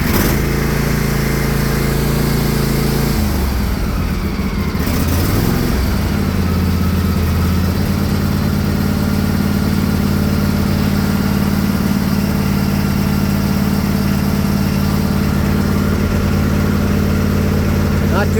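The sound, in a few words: engine starting and idling in the cold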